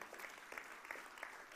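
Congregation applauding at a French church service, steady dense clapping from many hands, fairly distant and soft, with no voices.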